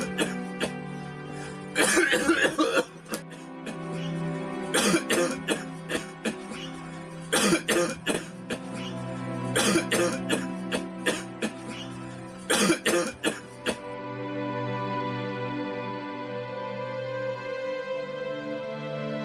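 A person coughing from smoking beedi, in repeated harsh bursts of several coughs each, close and loud, separated by short pauses over a steady background hum.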